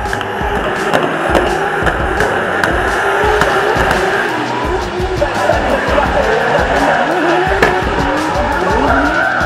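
Nissan S14 drift cars battle in a drifting semi-final, engines roaring at high revs with long tire squeals and skids, loud and continuous throughout.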